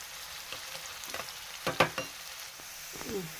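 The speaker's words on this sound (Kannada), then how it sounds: "ಈ ಎಣ್ಣೆ ಒಳಗೆ ಈ ಉಳ್ಳಾಗಡ್ಡಿ ಹಾಕೊಂಬಿಡಣ್ರಿ ಫ್ರೈ ಮಾಡ್ಕೊಳನ್ರಿ" Sliced onions fry in hot oil in a pan, a soft sizzle under a few sharp crackles and stirring scrapes, with one louder burst of spattering near the middle.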